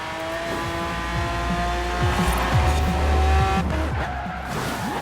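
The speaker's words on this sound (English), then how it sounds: "because this game is set in the UK, you can drive one of the black cabs" A black cab taxi driven hard on a dirt race in Forza Horizon 4, set in Britain: a steady, loud engine drone with tyres skidding and squealing, the pitch shifting as it revs.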